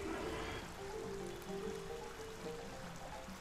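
Waterfall in a dinosaur video game, a soft continuous rush of flowing water with faint tonal game sounds layered over it, fairly quiet and steady.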